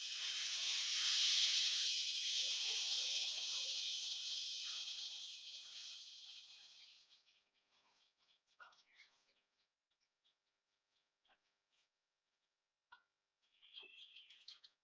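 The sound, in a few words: boiled water poured into roasted semolina (rava) for upma, sizzling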